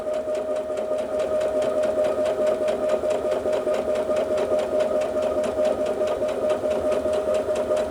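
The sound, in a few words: Brother Innov-is F400 sewing machine stitching at increased speed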